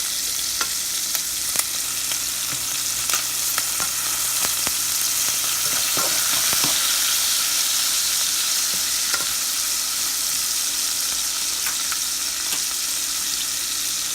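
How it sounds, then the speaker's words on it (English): Large shrimp with creole seasoning browning in a pan for rasta pasta, a steady loud sizzle with occasional pops and stirring clicks throughout, close up with no talking. "And I'm using large shrimp. So I'm going to just brown these up just a little bit."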